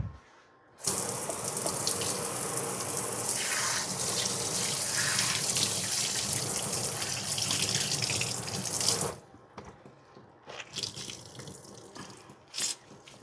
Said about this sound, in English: I got to wash my hands when I crack eggs